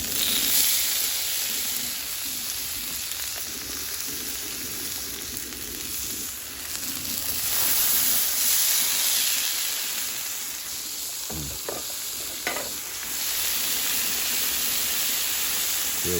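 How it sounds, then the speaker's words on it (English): Potatoes sizzle on a Blackstone flat top griddle in a loud, constant hiss that fills the whole span, with a few brief clicks and scrapes near the end. "Just listen to that sizzle."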